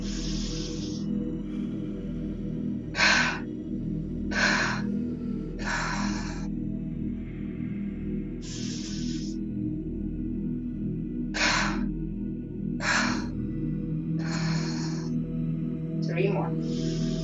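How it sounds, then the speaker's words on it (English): Deep breaths are drawn in and let out through the nose during desk yoga, sounding as a series of near, hissing airy strokes at an even, unhurried pace with low room hum beneath. "Inhaling deeply to the nose."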